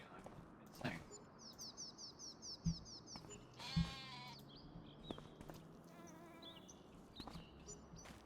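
Sheep bleat in Farming Simulator, on a farm map, with several short calls spread across the scene over a steady outdoor ambience, some nearer and some more distant, plus brief bird-like chirps.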